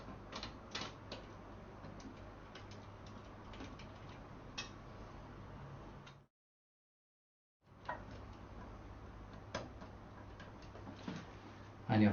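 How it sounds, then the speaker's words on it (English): Quiet, rapid mechanical ticking of a screwdriver or driver fastening screws on a door closer cover, continuous soft clicks over a low hum, broken by a brief silent gap midway. "line up the holes and then screw these down"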